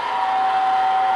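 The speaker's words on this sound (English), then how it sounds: "Turn on the blower, give it a moment to vent out." An electric blower fan on a charcoal gasifier runs with a steady, close whine and airy rush, alone and unchanging.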